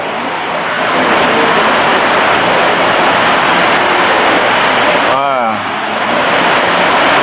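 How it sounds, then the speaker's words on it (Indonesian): Heavy rain pouring down as a loud, continuous broadband roar that fills the whole stretch, with a brief voice breaking through near the end. "Ini hujannya luar biasa"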